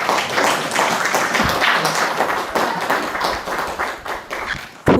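A small gathering at a spiritual retreat session gives a round of applause. The hand claps are distinct and fairly close, and they continue steadily for several seconds before thinning out at the end.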